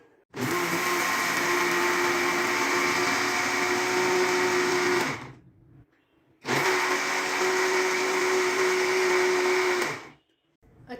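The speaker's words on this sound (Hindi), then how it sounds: "दोबारा से हम इसे अच्छी तरह से ब्लेंड करेंगे।" An electric blender whirs loudly as it blends a mango smoothie with sugar and yogurt, in two sustained runs of about five and four seconds separated by a short silent pause.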